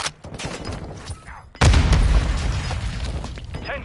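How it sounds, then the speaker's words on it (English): Mortar strike explosions in Modern Warfare 2 land as a heavy, loud boom that rumbles and decays over two seconds, following a stretch of softer crackling battle noise. "Mortar strike inbound."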